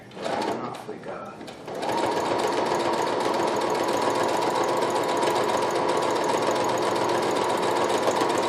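A Brother CP7500 computerized sewing machine stitches at a steady, fast, even hum after a brief start with some handling noise, running close and continuous to the end.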